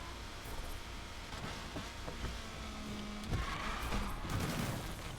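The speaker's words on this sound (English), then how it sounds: "For some reason I decided to use the handbrake to go along with my drift there." Ford Mustang GT drifting with the handbrake in Need for Speed Unbound, a steady engine roar with a brief tonal tire squeal and louder rising engine noise in the last two seconds.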